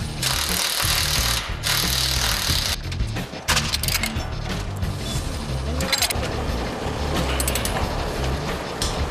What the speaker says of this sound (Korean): 조명판을 제자리에 딱 맞게 넣은 후 신속하게 나사를 조여서 기둥과 연결시켜준다